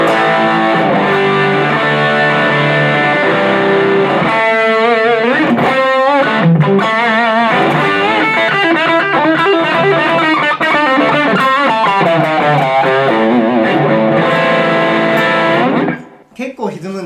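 Electric guitar played through a Yamaha THR10 amp with the gain at maximum, heavily distorted chords and riffs ringing loud and steady before cutting off abruptly.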